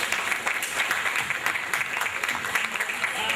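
Steady applause from a crowd at a civic event honouring the mayor, many hands clapping together at a brisk, even pace throughout.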